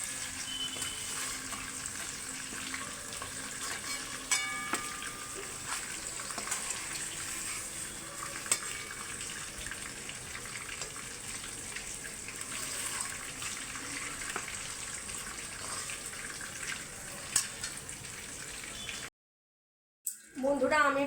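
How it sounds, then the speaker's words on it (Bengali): Marinated chicken pieces frying in oil, a steady faint hiss and crackle throughout with occasional sharper pops, cut off by a brief silence near the end. "এইভাবে আমি অন্য আরও যে চিকেনগুলো ম্যারিনেট করা আছে সেগুলো সব ভেজে তুলে নেব"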